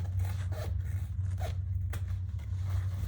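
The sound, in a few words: scissors trimming fabric seams of a tote bag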